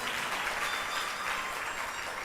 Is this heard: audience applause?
yes